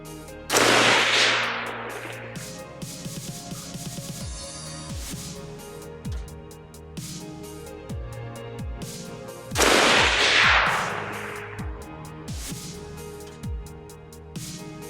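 A Wilson Combat Recon .308 AR-10 rifle fires outdoors in rural North Carolina, two loud sharp shots several seconds apart, each followed by a long echoing rumble, with quieter clicks and handling noises in between.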